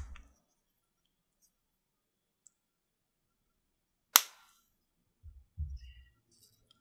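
A case back is pressed onto a vintage Universal Geneve gold dress watch, one sharp, bright snap in near silence, followed by a couple of soft low handling knocks.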